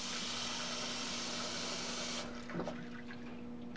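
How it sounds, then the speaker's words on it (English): Running water filling a slip trailer with clean water in a pottery setting, a steady close hiss that cuts off partway, followed by faint small splashes and handling sounds. "I'm going to fill it again with water, clean water."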